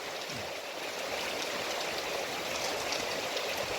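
A river swollen with red, muddy water after heavy monsoon rain in the Konkan near Dapoli rushes with a constant broadband roar, steady and moderately distant, with no voices.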